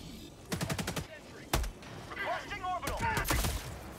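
Gunfire in the Helldivers 2 video game: several rapid bursts of shots ring out early, then a sharp single blast, followed by more scattered firing under excited voices talking.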